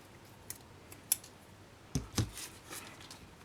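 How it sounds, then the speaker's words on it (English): Scissors snip through a paper scrapbook title, a few short crisp cuts close by in a quiet room, with several sharp snips in the second half. "I'm just going to take a pair of scissors holding that title in place and just cut up the middle and then notch out either side"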